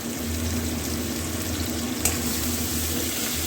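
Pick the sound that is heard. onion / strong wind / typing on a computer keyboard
onion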